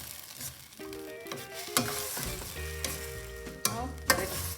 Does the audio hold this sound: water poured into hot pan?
yes